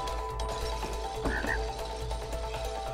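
A single frog croak sounds from the video game It Takes Two, a brief rising call in the middle over a steady tonal game background.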